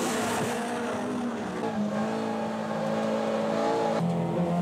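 Toyota AE86 race cars accelerate hard on a circuit, engines revving loudly with rising and shifting tones, several cars close together and no voices.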